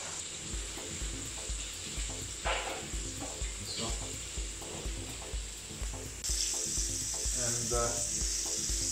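Blacktail bream sizzles steadily in a hot frying pan, with a dense crackle that swells louder partway through, plus occasional scrapes and clinks of a utensil.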